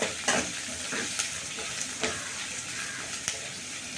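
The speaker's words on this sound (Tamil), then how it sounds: "வெங்காயம் நல்லா வதங்கணும். வதக்கிட்ட பிறகு தக்காளி போடணும்." Onions sautéing in wood-pressed groundnut oil for a South Indian kara kuzhambu, giving a steady close sizzle and frying hiss with several sharp stirring scrapes of a spoon against the pan.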